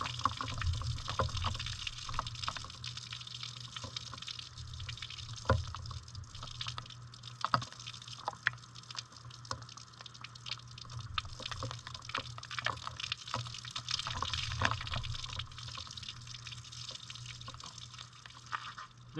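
Water drains away after hand-washed laundry, a faint continuous trickle with scattered drips and gurgles, low and steady throughout.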